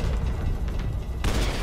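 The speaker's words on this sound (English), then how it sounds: "See, that guy died from the explosion." Explosion in the video game Max Payne 3, a deep rumbling boom with a low roar that swells and then bursts into a brighter blast toward the end.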